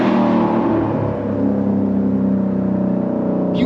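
A 2024 Mustang GT V8 with a Magnaflow competition exhaust revs loudly and steadily, a raspy high-toned drone that rises and holds for a few seconds, close by with no talking.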